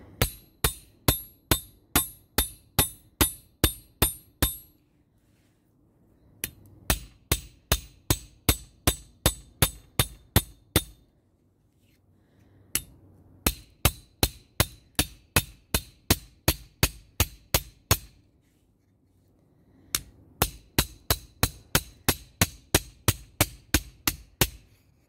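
Rapid metal hammer strikes on sterling silver taped to a texture plate, in bursts of about a dozen ringing blows separated by short pauses.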